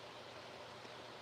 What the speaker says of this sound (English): just letting my water drain out